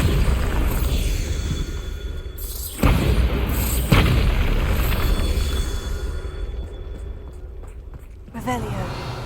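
Bombarda spell explosions in the video game Hogwarts Legacy, two heavy booming blasts a second apart over a rumbling ambient bed, followed later by a softer impact with crackling debris.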